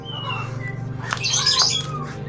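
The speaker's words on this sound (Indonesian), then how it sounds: "background di belakang ada suara ayam yang lagi bertelur" Hens squawk and cackle after laying eggs, sharp calls rising over a steady low hum in the background of a lovebird breeding room, fairly close and moderately loud.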